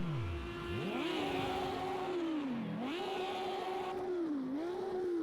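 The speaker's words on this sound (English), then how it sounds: "He's just sat there in his box revving at the moment." A GT3 race car sits in its pit box in Project CARS 2 and revs repeatedly. The engine note sweeps up and down several times in a steady, continuous drone.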